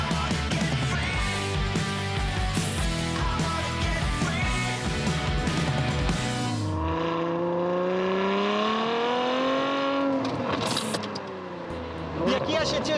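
A Ferrari F12 Berlinetta engine revs loud and close, pitch climbing steadily through rising sweeps with a brief drop and restart near the end; voices talk underneath.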